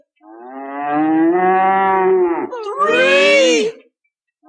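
A voice performing a cow's moo imitates cattle in a children's puppet comedy set in cattle country: one long, loud, wavering low moo, then a rising, higher-pitched second moo, close and clear with no other talk.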